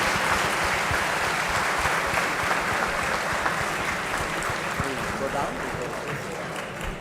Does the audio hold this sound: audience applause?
yes